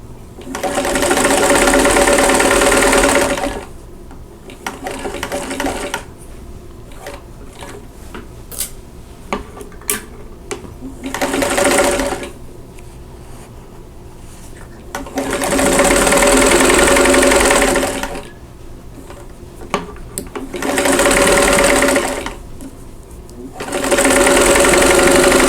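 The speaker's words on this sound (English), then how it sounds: "And pin them in place, and then sew." A sewing machine stitching quilt block seams, with four bursts of rapid, even whirring separated by quiet pauses filled with light handling sounds.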